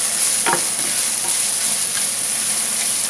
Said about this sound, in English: I'm gonna add in the pandan leaf and cook for a few seconds